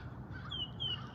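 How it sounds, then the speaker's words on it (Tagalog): Crows caw a few times at moderate distance outdoors in a late-winter setting with bare trees, two short harsh calls standing out over a faint background hum. "mga uwak."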